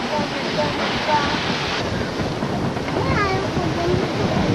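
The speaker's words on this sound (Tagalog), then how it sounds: "Very windy." Strong wind buffets the microphone in a constant low roar at Novotel Puerto Azul, Cavite, with faint voices briefly audible underneath.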